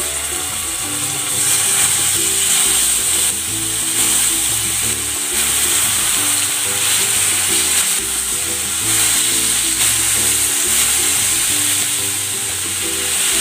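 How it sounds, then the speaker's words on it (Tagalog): Pork sizzles in hot cooking oil in a pan, a loud, steady, close-up frying hiss that runs unbroken throughout with no talking. "Maglalagay ako ng cooking oil. Isasalang ko na itong pork."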